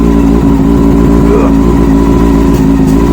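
A loud Honda CB400 Super Four four-cylinder motorcycle engine runs steadily with a rough, throbbing idle and slight rises in revs, close by and continuous throughout.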